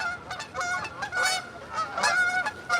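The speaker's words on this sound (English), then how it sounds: "Let me show you the birds." Geese honking in repeated harsh calls, several overlapping birds at moderate distance, loud and continuous with no talk.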